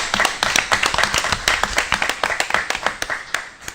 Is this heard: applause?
yes